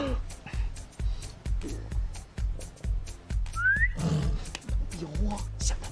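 A person whistles a short rising tone while a steady, rhythmic low thumping pulse runs underneath throughout, in a comedy film scene near a big cat.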